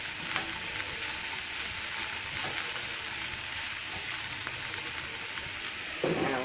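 Food browning in butter in a hot pan gives a loud, steady sizzle that holds evenly throughout, with no voices.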